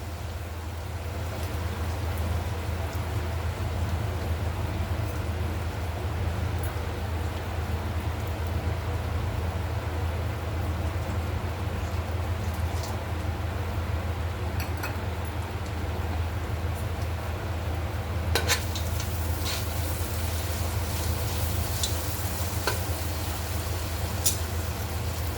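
Prawns frying in a pan for a prawn biryani, a steady low crackling sizzle that runs evenly throughout, with a few sharper spatters and clicks toward the end and no voices.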